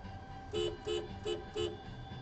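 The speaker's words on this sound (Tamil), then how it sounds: "ஹார்ன் அடிச்சு போவேன்." A car horn toots four times in quick, even succession over a low engine rumble, moderately close, in traffic near a temple.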